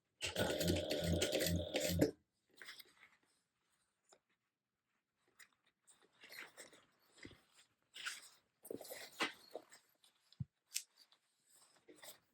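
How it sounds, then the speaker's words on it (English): A sewing machine stitches straight across the bottom of a fabric shoulder bag at a 3/8 inch seam allowance, running in a steady close buzz for about two seconds, then falling to faint handling rustles and clicks. "go ahead and sew this across the bottom here at a 3/8 inch seam allowance"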